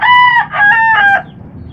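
A brood stag rooster crows nearby, a loud, clear cock-a-doodle-doo broken into several rising and falling segments, with no other sound over it.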